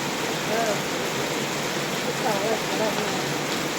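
Heavy rain pouring steadily outdoors, a dense continuous hiss of falling water filling the whole clip at a constant loud level.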